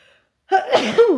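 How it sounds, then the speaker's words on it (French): A single sharp sneeze erupts after a brief silence, close and loud, with a short breathy tail. "je vais encore éternuer"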